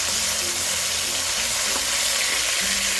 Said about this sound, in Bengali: অপেক্ষা করো মাছগুলো একটু ভাজা হওয়া পর্যন্ত।